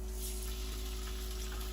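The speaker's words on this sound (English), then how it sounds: "we're gonna put them here in this frying pan" Chile peppers fry in a little oil in a frying pan, giving a steady close sizzle with a constant low hum underneath.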